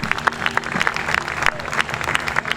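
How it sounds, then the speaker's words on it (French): Audience applause at the closing ceremony of a book festival in Kinshasa, a dense patter of many hands clapping steadily throughout, with a voice faintly audible underneath. "On applaudit très fort"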